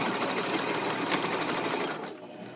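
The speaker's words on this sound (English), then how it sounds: "So that's how I am going to sew this." A sewing machine stitches a wool soaker in a fast, steady rhythm of close mechanical clatter, then stops abruptly near the end, leaving a quiet room.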